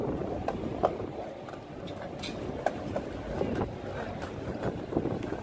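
Strong outdoor wind buffeting the microphone, a continuous loud low rumble with irregular gusty bursts and thumps, no voices.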